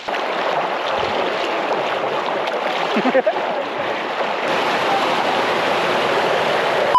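Halat Falls in Bugasong, Antique, a waterfall rushing with a loud, steady broadband roar that fills the whole scene.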